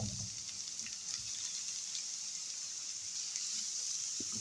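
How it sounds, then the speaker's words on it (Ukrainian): Steady, soft sizzling of onion and carrot frying in oil in a pan, a continuous crackle with occasional pops, fairly quiet. "Тепер відправляємо цибульку смажитись. На сковорідку наливаю я олію"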